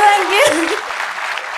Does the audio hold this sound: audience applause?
yes